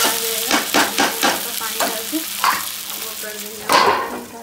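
Food fries loudly in a pan, with a strong close sizzle and repeated scraping and stirring strokes in an uneven rhythm, and a louder sputter near the end.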